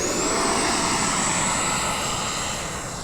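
Model airplane engine revving at full throttle on takeoff at an RC flying field, a loud steady high-pitched drone holding for several seconds and easing slightly toward the end.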